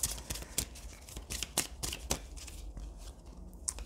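Oracle cards being shuffled by hand during a card reading, giving a run of soft papery riffles and slaps in irregular bursts, close and fairly quiet, with no voice over them.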